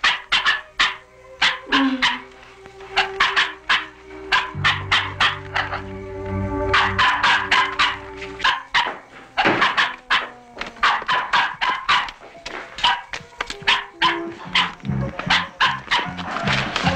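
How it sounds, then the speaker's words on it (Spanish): A dog barks repeatedly indoors in a dramatic film scene, sharp close barks and yips coming in uneven bursts over music and background sound throughout. "no sé por qué está ladrando."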